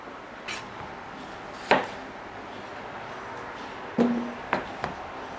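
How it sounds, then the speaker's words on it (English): A knife chopping tomatoes into pieces on a cutting board in a home kitchen, heard as a few sharp, separate cuts close by, with quiet pauses between them. "chop the ends off and just chop them up in pieces"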